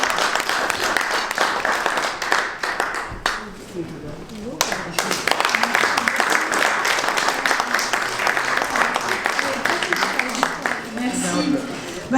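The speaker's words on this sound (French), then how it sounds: "applaudissements." An audience at an award ceremony held in the French Senate applauds as the godmother, a Lyon senator, is called up. The loud, dense clapping runs throughout, dips briefly midway, and has voices mixed in.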